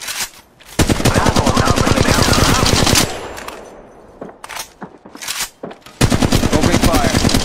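Rapid automatic gunfire bursts in Apex Legends Mobile, loud and close, with a long volley, a pause holding scattered shots, then another sustained burst; a voice talks briefly in the gaps.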